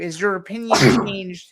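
A single sharp human sneeze bursts out mid-conversation during an interview, close and loud, with someone talking just before it and continuing right after.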